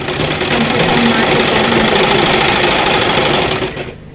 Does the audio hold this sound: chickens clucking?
no